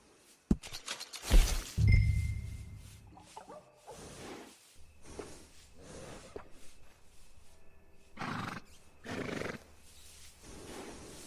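Horse neighing and snorting at a stable in the video game Red Dead Redemption 2: one loud whinny near the start, then several shorter breathy snorts and rustles spread through the scene, with no talking.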